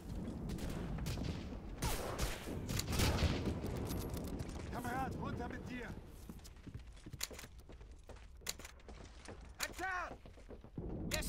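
Video game gunfire from Medal of Honor Allied Assault multiplayer, scattered sharp shots and bursts at varying distances, some rapid volleys, with game voice sounds and background noise throughout.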